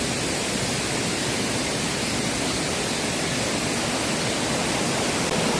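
A stream flows beside a waterfall in a wooded valley near Seoul, a loud, unbroken rushing hiss that fills the scene evenly from start to finish with no voices.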